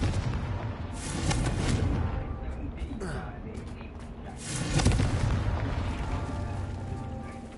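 Fire spell explosions in a Hogwarts wizarding video game: several loud booming blasts with crackling bursts, the heaviest near the start and again midway, dense and close throughout.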